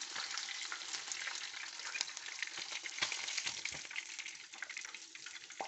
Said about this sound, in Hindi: इसी तरह मैं बाकी सारा भी चिकन जो है ना फ्राई कर लेती हूँ।